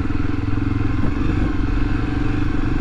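A Honda XRE300 motorcycle rides steadily along a dirt road toward a lake, its engine droning loud and constant with wind and rattling clatter over it.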